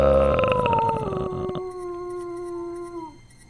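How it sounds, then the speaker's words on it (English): A single long, mournful wolf howl from the video game King's Quest 2 remake, starting strong and sliding down in pitch, then holding a steady tone before fading out. "You freeze as a wolf's howl sends shivers down your spine"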